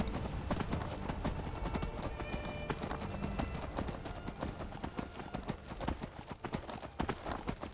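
Horse hooves clip-clop steadily as a rider travels along a road in the modded video game Skyrim Special Edition, a quick continuous patter of hoofbeats heard up close without speech.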